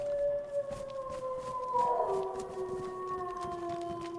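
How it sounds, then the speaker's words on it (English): Wolves howling in a GTA roleplay game, several long rising and falling howls overlapping in a distant chorus over a low rumbling background, with no talk. "that's close. wolves."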